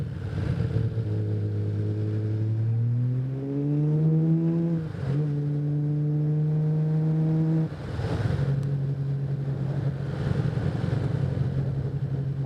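A Honda CBX 1000 six-cylinder motorcycle engine pulls up through the gears, its smooth rising whine climbing in pitch, dropping at each shift, then holding a steady loud drone, close by and with no talking.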